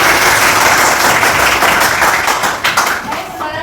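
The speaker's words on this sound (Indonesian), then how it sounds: "berikan aplaus ya" A classroom group of vocational nursing students applauds, a steady dense clatter of many hands clapping throughout, with some talk mixed underneath.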